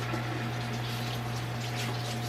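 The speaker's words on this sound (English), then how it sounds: "Wash my hands." A kitchen tap running steadily while someone washes their hands after touching meat, a constant close wash of water with a faint hum underneath.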